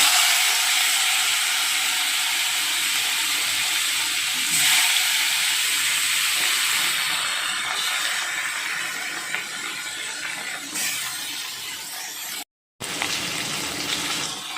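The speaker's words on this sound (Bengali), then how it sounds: "এবার মাছগুলো দিয়ে আমি ভাজা করে নিচ্ছি" Koi fish frying in hot oil in a kadai, a steady close sizzle and hiss that swells around five seconds, dips briefly to near silence near the end, then resumes.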